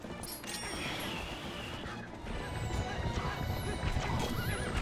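Horses gallop and neigh during mounted combat in the video game Twilight Princess HD, with dense hoofbeats, whinnies and clashing effects under a busy, continuous game soundscape.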